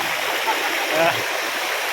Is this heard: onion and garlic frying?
no